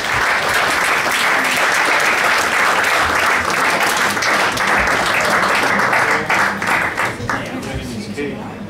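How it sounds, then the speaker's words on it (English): Loud, close applause at a sports awards night, a dense crowd clapping steadily with some voices underneath, thinning slightly into distinct claps near the end. "Please, a round of applause for our cameraman and our photographer Sue."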